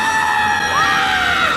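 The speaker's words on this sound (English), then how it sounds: "And now for comedically over the top scream in 3, 2, 1." An exaggerated, over-the-top woman's scream from a movie, loud and sustained with a wavering pitch that bends and slides, heard alone.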